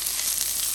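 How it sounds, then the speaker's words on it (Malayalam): Vegetable mezhukkupuratti stir-frying in a pan, a bright, even sizzle of oil hissing steadily for a brief moment, close and alone without talk. "ഒന്ന് ഇളക്കി ഫ്രൈ ചെയ്തെടുക്കുന്ന"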